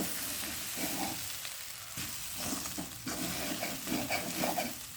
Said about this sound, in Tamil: போட்டுட்டு எல்லாத்தோடையும் சேர்த்து கலந்து விடுவோம்